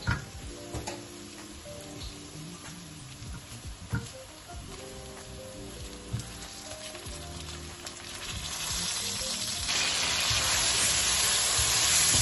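Tomatoes tipped into sizzling lamb karahi in a hot pan: a few clinks and stirring knocks first, then a rising, steady frying hiss that grows louder and fills the end, close by and with no talking.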